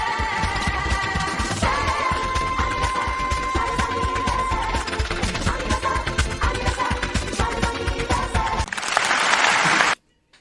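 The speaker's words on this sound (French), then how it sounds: "il y a eu des applaudissements de fin" A canned applause effect plays during a Twitch birthday stream, with dense, continuous clapping and some cheering over a busy background for about ten seconds, swelling into a brighter burst before stopping abruptly.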